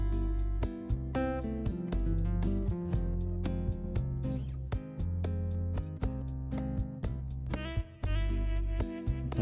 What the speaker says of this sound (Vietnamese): Và đây là tiếng guitar đi lòng.